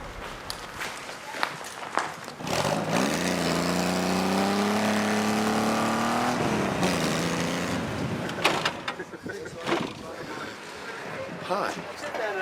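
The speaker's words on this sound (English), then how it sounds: "It's a good fun car, it does about 100 miles an hour." A custom-built car from the film Doomsday, good for about 100 mph, drives past with a rising engine note that swells through the middle and fades, followed by scattered clatter and thumps.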